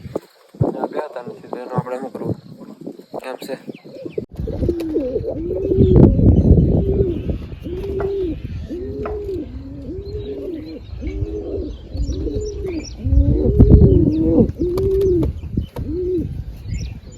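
Pigeons cooing in a coop that also holds a partridge, a run of repeated rolling coos in steady rhythm, close and clear, following someone speaking at the start.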